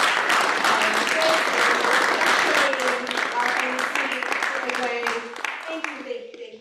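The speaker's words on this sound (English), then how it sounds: "If you wouldn't mind standing one more time for a round of applause." An audience at an XR Spring Summit applauds the summit coordinators, with steady mixed clapping and voices chattering over it, gradually tapering off toward the end.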